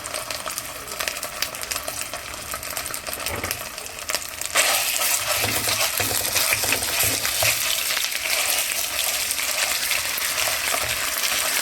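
Tomato paste hits a hot frying pan with vegetables and potatoes, setting off a sudden, louder crackling sizzle partway through that continues steadily, with scraping and stirring clinks and no talking.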